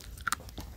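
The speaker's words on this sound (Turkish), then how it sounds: "Biraz erişte yiyelim şöyle kıtır kıtır." A few quick, crisp crunches as someone bites into dry homemade erişte noodles, faint and close, with brief chewing sounds after the sharp bites.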